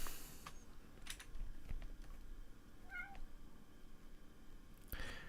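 A house cat gives a single short meow amid the rustle of it scratching at a bed, faint within a noisy indoor room with scattered clatters.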